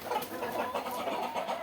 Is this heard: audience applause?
no